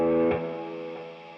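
A Novo electric guitar played through an amplifier with a heavy distortion pedal gives a thick, sustained distorted chord. It is restruck once and then rings on, slowly fading, with no voices.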